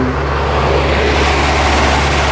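A Mercedes G-wagen engine idling, a loud, steady low rumble with a constant hum that stays even from start to finish, no voices over it.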